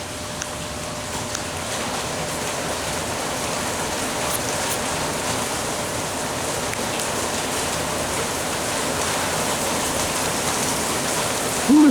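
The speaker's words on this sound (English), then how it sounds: "Ooh, it's raining hard out there." Heavy monsoon rain pours down outside in a dense, steady hiss of countless drops that continues unbroken at an even level, with no talking.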